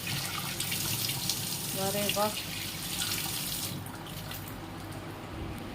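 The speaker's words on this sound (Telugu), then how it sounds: "వాటర్లో కడిగేసుకున్నాను." Hands rinsed under a running tap over a sink, a steady close water stream with a short spoken phrase partway through, the flow thinning toward the end.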